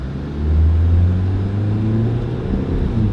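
Used car pulling away on a road test, a low steady engine rumble swelling as it accelerates, with road noise beneath, heard alone without talk.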